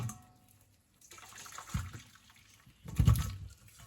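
Parboiled beetroot and carrots with their cooking water are poured into a container, giving a soft trickle that builds into a louder watery splash near the end, with no talking.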